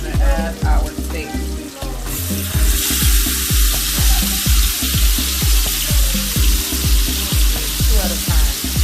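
Steak sizzling in browned butter in a hot pan, a loud continuous fry with bursts of crackling spatter and rhythmic scraping or stirring knocks throughout.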